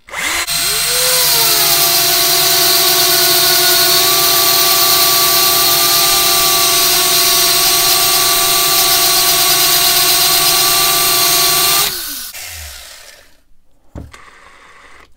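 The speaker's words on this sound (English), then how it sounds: "I'm curious whether direction of my drill makes a difference, so I'm going to switch it around" A power drill cutting a notch spins up to a loud, steady whine and grinds for about twelve seconds, then winds down and stops, followed by faint clatter.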